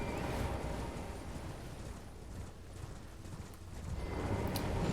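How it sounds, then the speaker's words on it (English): Horse hooves galloping in the Elden Ring video game, a fast, continuous clip-clop rhythm at moderate level with no voices over it. "Oh, there's me trying to sprint on my horse."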